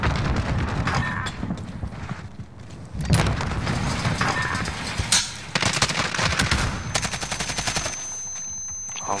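Video game gunfire comes in rapid automatic bursts and single sharp shots, loud and dense, with booming hits over continuous game noise.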